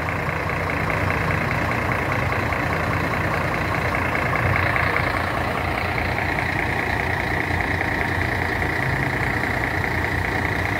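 A Gontijo intercity bus at the Governador Valadares bus station, a heavy diesel engine rumbling steadily and close, loud and continuous with a slight swell midway, no talking.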